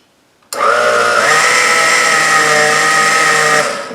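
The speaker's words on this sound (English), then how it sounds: "And this gets blended just to combine everything." A kitchen blender whirs up heavy cream, whole milk and other strawberry ice cream ingredients, starting abruptly after brief quiet and running loud and steady for about three seconds before winding down.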